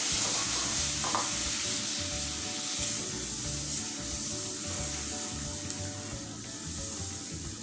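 Warm milk is poured a little at a time into a browned flour roux and stirred in a pan, giving a steady close sizzle with soft scraping and stirring, with no talking.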